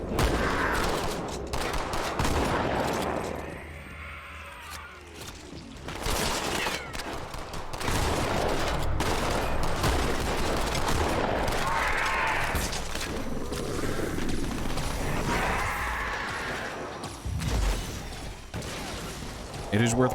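Rapid gunfire bursts and explosions from the Halo 2 Anniversary video game on Heroic difficulty, loud and nearly continuous across a chaotic battle, mixed with shouted in-game character voices.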